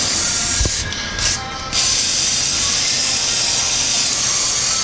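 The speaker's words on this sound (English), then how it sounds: "I need to get some WD-40 on these bolts before I even try to get them off, because they are rusty" WD-40 hisses loudly from a spray can onto rusty bolts during an engine swap on a BMW E30, with a steady close spray that is briefly interrupted twice and then continues.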